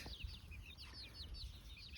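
Faint clucks and low grunting from a rooster come in short bursts over a noisy farmyard background, with higher chirping birds in the distance.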